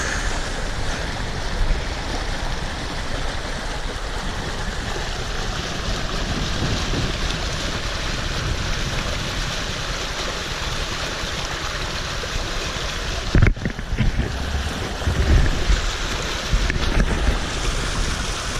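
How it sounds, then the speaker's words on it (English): A spring brook in the Newfoundland bush flowing gently, a steady broadband rush of water with light wind noise, continuous and close, with a few soft bumps near the end. "Spring brook gently flowing down through here, and the sun glistening on its surface."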